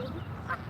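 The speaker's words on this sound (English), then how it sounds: "Oh, there's a whole flock of geese right over there." A faint honk from a flock of geese outdoors beside a carp fishing spot, heard once over quiet background noise.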